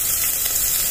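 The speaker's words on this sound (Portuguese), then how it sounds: "E vou deixar também dar uma leve douradinha aqui na cebola" Chopped small onion frying with garlic in a pan, giving a steady, close sizzle of fine crackling hiss that holds evenly throughout with no talking.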